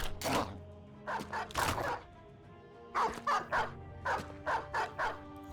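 Dogs in a Battle Brothers battle bark and yip in quick bursts, a cluster of short barks followed by a longer run of evenly spaced yaps, fairly close and clear with no talking.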